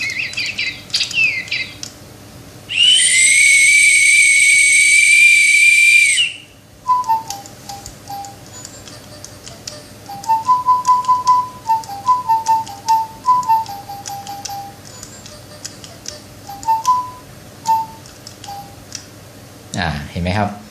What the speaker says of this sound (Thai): เดี๋ยวผมจะลองเป่าอีกทีนึงให้เพื่อนๆได้ดูว่า ถ้าเป่านกหวีดไปอีกรอบเนี่ยเขาจะร้องเพลงไหม